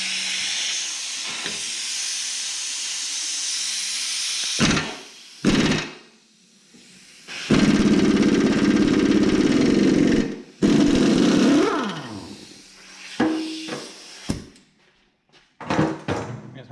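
Hammer blows on a tool to free a rear suspension nut on a 1982 Corvette, a few loud, sharp metallic strikes with pauses between them, mixed with hissy broadband noise and louder bursts partway through.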